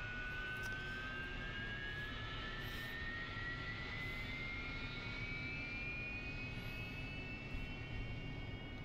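A jet engine spools up in the DCS flight simulator, a faint rising turbine whine over a steady low rumble, heard with no talking.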